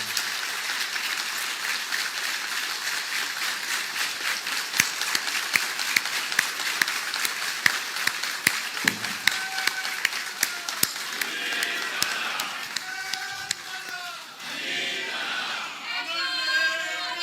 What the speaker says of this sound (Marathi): आपण टाळ्या वाजून या घोषणेचा स्वागत केलं आहे